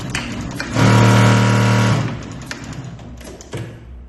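A Mauser Spezial 2645 heavy-duty leather sewing machine runs one short, loud stitching burst of about a second with a steady motor hum, followed by quieter mechanical clicks and taps.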